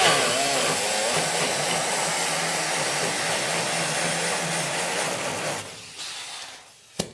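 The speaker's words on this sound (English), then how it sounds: "This is something of your standard air sander in the smaller sizes." A small pneumatic air sander works a custom 1968 Volkswagen body panel, giving a steady, close, loud hissing whir that runs for several seconds before tapering off with a brief bump at the end.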